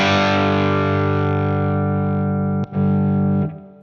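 An electric guitar played through an IK Multimedia Mesa/Boogie amp simulation on its crunch setting rings out a sustained distorted chord, briefly cut, then struck again before fading.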